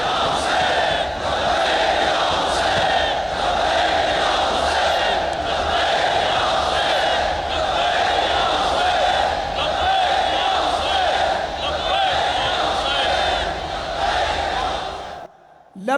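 A large crowd at a martyrs' memorial conference chants the slogan Labbaik ya Hussain in a sustained, loud, unbroken roar of massed voices that stays dense from start to end.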